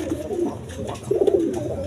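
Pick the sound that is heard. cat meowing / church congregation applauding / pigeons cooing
pigeons cooing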